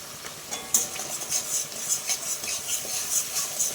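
Salt and turmeric being stirred into a pan for a fish curry with mustard and poppy seed paste, a soft sizzle under repeated light scraping taps of a spoon against the pan, close and steady.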